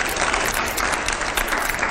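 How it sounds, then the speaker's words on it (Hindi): Dense, loud studio audience applause on a TV interview set, continuous and even from start to finish. "अगले सवाल से पहले जोरदार तालियां हो, प्ले करिए"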